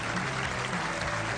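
A bowling crowd in Wichita at the PBA World Championship claps and cheers on its feet, a dense, continuous roar of applause filling the whole moment.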